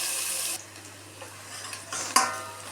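Onions sautéing in a pan for a village-style tomato gravy, stirred with a utensil: soft scraping and light clinks over a faint sizzle, with a sharper metallic tap near the end.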